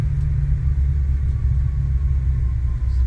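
Reverse thrust from the jet engines of an Aerosoft CRJ airliner just after touchdown in a flight simulator, a loud, steady low rumble that holds without a break, with no talk.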